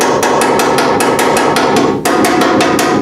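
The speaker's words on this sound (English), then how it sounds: "I take the hammer and I tap it" Rapid, loud, evenly spaced hammer taps on a welded metal seam in a car wheel well during a rocket car restoration. About fifteen ringing metallic strikes come close together, with one brief pause partway through.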